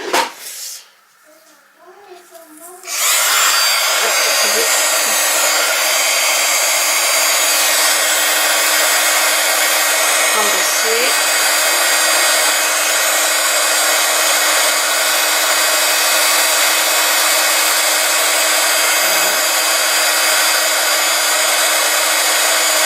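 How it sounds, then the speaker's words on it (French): Heat embossing gun blowing hot air over embossing powder on a handmade birthday card, a steady loud whooshing roar that starts after a few quiet seconds and runs continuously to the end. "Et avec mon pistolet embossé. Donc ça va faire un peu de bruit, je suis désolée."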